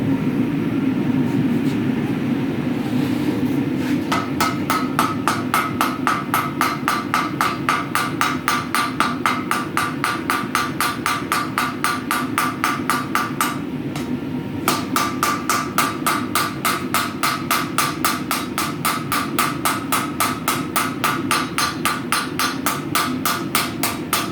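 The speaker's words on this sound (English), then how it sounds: "I might just give it a bit more of a tap here to flatten it out a bit" Rapid, steady hammer blows ring out while forging a metal striker in a fast continuous rhythm, close and loud, with a brief pause midway.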